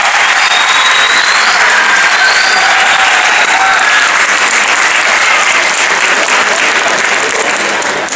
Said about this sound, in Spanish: Un nuevo aplauso para todos ustedes.